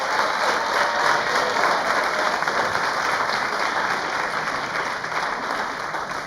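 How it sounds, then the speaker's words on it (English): A graduation audience at a high school ceremony applauds in a dense, sustained wash of clapping from many hands, steady and fairly loud, tapering slightly toward the end with no talk over it. "Big round of applause to you."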